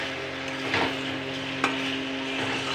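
Potatoes and eggs are stir-fried in a pan with onion, garlic, ginger, cumin and chilli. The sizzle is steady and continuous, broken by occasional scrapes of stirring.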